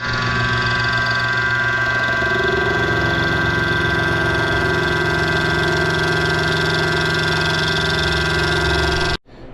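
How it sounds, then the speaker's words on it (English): A milling machine with a 3/4 inch bit notches a steel pipe, a steady loud mechanical drone with a rhythmic cutting chatter building partway through, running continuously until it cuts off abruptly near the end. "I am just going to notch it using the milling machine"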